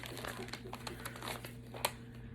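A package from a thrift unboxing is torn open, a close crinkling and ripping of packaging with a sharp tear near the end, over a low steady background hum and with no talk.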